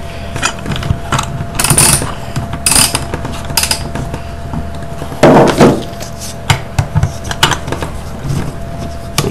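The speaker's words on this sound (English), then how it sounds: "grip that pulley with the parent pump pliers. I seem to be tightening that. There you go. Seems to be undoing it quite nicely" Pliers grip and work loose a pulley on the motor of a Van de Graaff generator, producing scattered close metallic clicks, scrapes and clanks with irregular pauses and no talk.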